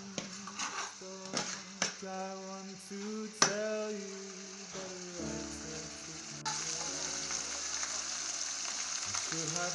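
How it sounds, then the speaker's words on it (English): Locust beans sizzle as they fry in a pan while a utensil scrapes and clinks against it, with soft background tones and a louder, steadier sizzle in the second half. "As it's frying, just keep stirring."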